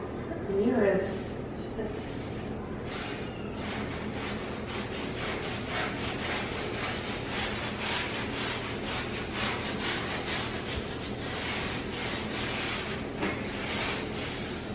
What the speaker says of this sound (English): I am going to start wiping it off and showing you the difference that the toilet bowl cleaner has made on my grout.